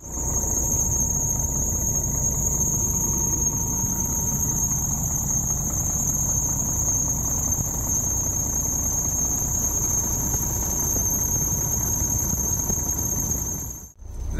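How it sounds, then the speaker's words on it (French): A drive belt on a camper van engine squeals loudly and continuously, a piercing high-pitched whine over a rumbling engine that holds for about fourteen seconds before briefly dropping out at the end. "J'ai toujours ma courroie qui fait du bruit."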